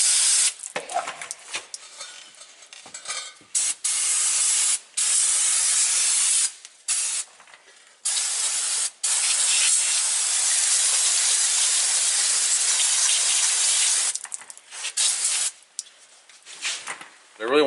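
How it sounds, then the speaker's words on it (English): Aerosol spray hisses in long loud bursts with short gaps as brake cleaner rinses brake fluid off the drum brake shoes of an old Ford pickup, several passes in a row. "I'm going to thoroughly rinse these shoes several times while I have it apart, just trying to get any brake fluid out of there."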